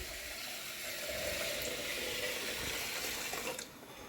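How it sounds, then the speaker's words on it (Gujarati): Water pours steadily into a cooker holding whole mung beans, a continuous broadband splashing stream, fairly loud and close, ending abruptly near the close with no voices. "તો જો અત્યારે મમ્મી એડ કરે છે એમાં પાણી."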